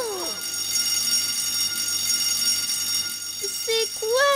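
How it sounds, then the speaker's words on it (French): A school fire alarm rings steadily in an animated classroom scene, a continuous electronic tone held throughout, with children's voices speaking briefly at the start and end. "Écoutez tous, ça c'est l'alarme d'incendie."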